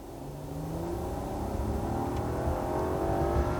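A Rolls-Royce Cullinan Black Badge SUV engine in its aggressive low mode builds smoothly under acceleration, a rising, continuous drone that grows slightly louder over several seconds, with no voices.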